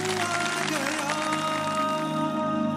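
A studio audience applauds three quiz contestants on a Ramadan quiz show, a steady dense wash of clapping with a faint music bed underneath, holding evenly for a few seconds.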